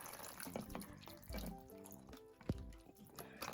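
Water trickles and splashes as it is poured onto a potted pepper plant, a quiet uneven pour with small drips and one sharper splash, no talk.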